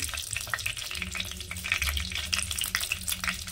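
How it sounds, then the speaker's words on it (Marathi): Broken dried red chilies hit hot oil in a tempering for rasam, giving a close crackling sizzle with spitting pops and faint stirring, steady throughout with no talking. "या फोडणीमध्ये ना आपल्याला मिरची घालायची अशी तोडून"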